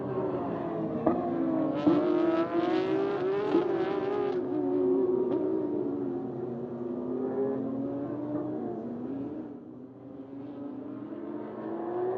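GT race cars rolling onto the starting grid at Circuit Paul Ricard, engines revving and droning as they approach and pass, loud and close with rising and falling pitch over several seconds.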